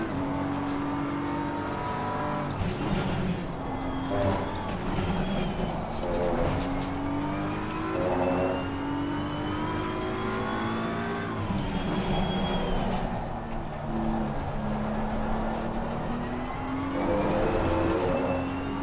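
Race car lapping Imola in wet conditions in a racing game, engine howling steadily and rising through gears with repeated upshifts, loud and continuous, a voice talking now and then over it.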